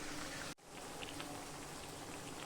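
Heavy rain falls in a steady, even hiss of dense drops, fairly quiet and continuous, with a brief dip near the start.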